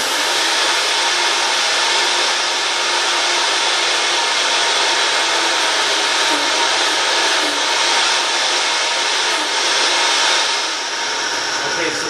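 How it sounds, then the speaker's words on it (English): A Vitamix blender pulverizes black sesame seeds, a loud, steady, full-bodied roar that holds for the whole stretch without pause. "I'm going to pulverize these in the Vitamix real quick"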